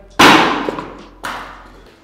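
Two sharp, hard blows strike a hard hat fitted on a melon, one after another about a second apart, each a loud plasticky crack that fades quickly.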